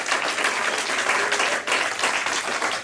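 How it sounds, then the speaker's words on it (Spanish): A church congregation applauding during a sermon, steady loud clapping from many hands that fills the room with a few brief dips. "Dale por favor un aplauso fuerte al Señor Jesús."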